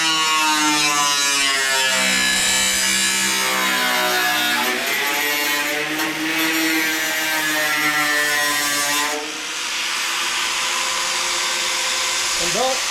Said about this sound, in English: I want to cut on the inside here so I don't have like a V when I'm done.